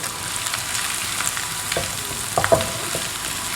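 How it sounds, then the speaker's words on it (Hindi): Beef mince fries in a pan with a steady, close sizzle, broken by a few spoon scrapes and stirring knocks near the end. "इसको इतना पिंक फ्राई करेंगे कि लाइट सा पिंक हो जाए।"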